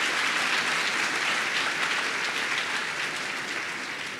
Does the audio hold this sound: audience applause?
yes